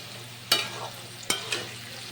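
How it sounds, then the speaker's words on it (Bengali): Carrots and beans being stir-fried in a pan for navratan pulao, a faint soft sizzle broken by a few sharp scraping stirs of a utensil, close. "সব কিছু আবারও বেশ কিছুক্ষণ ধরে নাড়াচাড়া করে একটু ফ্রাই করে নেব"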